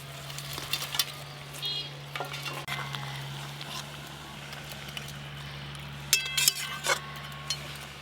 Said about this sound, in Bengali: মাছ দেওয়ার পর ঝোলটা কিন্তু বেশ গুটগুট করে ফুটে গেছে